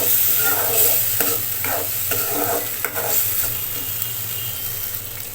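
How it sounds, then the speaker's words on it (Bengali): Stone-ground spice paste, thinned with a little water, is sautéed for a raw jackfruit curry, producing a loud, close sizzle with rhythmic stirring strokes throughout. "পাটায় যে মশলাটা বেটেছিলাম সেটা ধোয়া একটু জল দিয়ে দিচ্ছি ভালোভাবে কষিয়ে নিচ্ছি মশলাটা"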